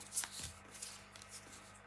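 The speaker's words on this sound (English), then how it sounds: "Shuffle them around, move them about, get them all moving." Tarot cards are shuffled by hand, a quiet soft riffling and sliding with a few sharper flicks, close and faint with no voices.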